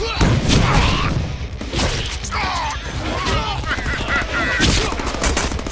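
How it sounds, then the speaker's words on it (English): Flashbang grenades and a burst of combat in the Deadpool video game on PS4, with loud repeated bangs, crashes and gunfire-like cracks under a voice talking. "Let me just flashbang all these guys."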